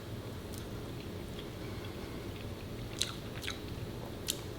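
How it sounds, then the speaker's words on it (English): Boiled gaspergoo fish bitten and chewed close to the mic, with soft, wet mastication and a few sharper clicks of teeth, quiet over a low background hum and no talk. "Get a bite of this goo."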